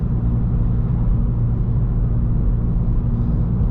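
A straight-piped BMW 1 Series cruises in sixth gear, its exhaust giving a steady, loud, low droning rumble that holds constant throughout with no breaks.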